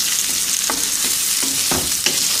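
Small-cut potatoes fry in butter in a pan with a loud, steady sizzle, broken by a few soft stirring scrapes.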